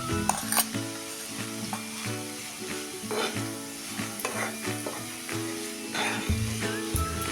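Methi (fenugreek) leaves being sautéed and stirred in a pan for methi pithla, with a steady sizzle and repeated scraping strokes of the spoon against the pan, close and even, with no talk.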